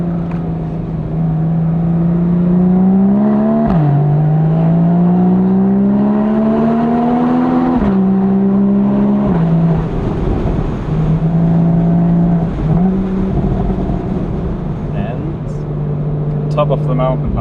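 On the Susten Pass mountain road, a Porsche accelerates in first gear, its engine note rising steadily, dipping briefly and climbing again, loud and sustained from close by.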